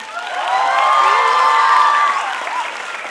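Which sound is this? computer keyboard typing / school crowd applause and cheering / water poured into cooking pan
school crowd applause and cheering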